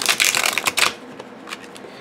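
An oracle card deck of linen cardstock is riffle shuffled close up. A dense, loud burst of fluttering card flicks is followed by a few softer, scattered snaps as the cards settle.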